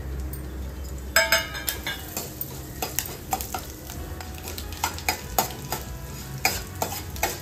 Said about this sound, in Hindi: गैस थोड़ी धीमी करेंगे और उड़द दाल और मेथी को हम फ्राई करेंगे।